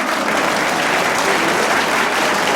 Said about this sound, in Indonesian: tepuk tangan buat Bang Boy